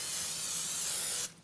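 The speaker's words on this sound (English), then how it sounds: "we're just gonna give this a spray with some cooking spray" A steady, close aerosol hiss of cooking spray onto a pancake pan lasts over a second, then stops abruptly.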